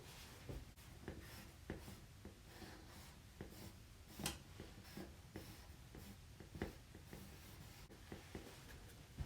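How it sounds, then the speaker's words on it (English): Chalk or marker strokes on a board, a steady run of short scratchy taps and rubs close by, some in quick bursts, with no voice over them. "So I'm going to write it vertically here."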